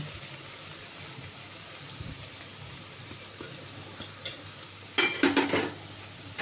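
Spoon stirring crushed peanut powder and coconut into cooking kuluchi bhaji, soft scraping under a faint background hum and then a louder clatter of quick stirring strokes against the pan near the end, with no talking.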